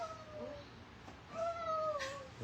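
A cat meows while someone calls it to eat. There are two drawn-out meows, one near the start and a louder one later, over a quiet background.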